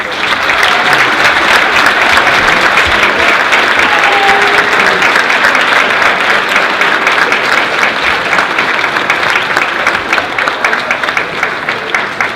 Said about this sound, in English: Give them a nice long round of applause.